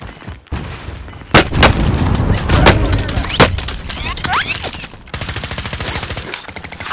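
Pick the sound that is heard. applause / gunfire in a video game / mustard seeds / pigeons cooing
gunfire in a video game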